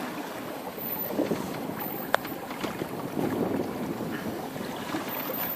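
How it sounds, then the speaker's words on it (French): A Bavaria 30 sailboat runs downwind on open sea with three-metre swells, wind buffeting the microphone over rushing water and hull noise, with one sharp brief knock. "On marche à 6 nœuds, vent arrière, voile en ciseaux"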